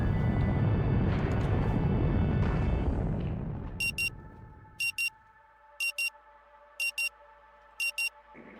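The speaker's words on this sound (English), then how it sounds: "The phonetic sound of the alarm nudges you back into the present" Game alarm in Rue Valley, a loud rumbling wash fading away, then steady tones with a sharp electronic beep pair repeating about once a second, five times.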